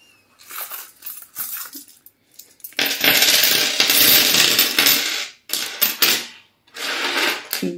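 Loose coins being counted and handled, clinking and rattling in bursts with a long dense stretch of jangling in the middle, close and fairly loud, with short pauses between handfuls.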